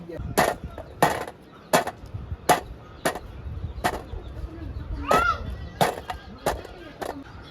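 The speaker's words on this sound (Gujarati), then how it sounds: "પહેલાં તો આપણે માથું કાપવાનું છે. આમ આવી રીતનું કાપવાનું. પછી આ પીસોડું કાપવાનું છે." A knife cuts dried gumla fish into pieces, with about ten sharp, close chopping strikes at an uneven pace and quiet handling noise between them.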